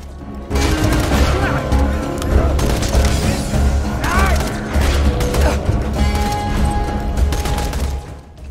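Rapid gunfire from a rocket-style weapon in the shooter game Borderlands 2, loud and continuous with explosive crackling bursts and mechanical clatter across the whole stretch, with no speech.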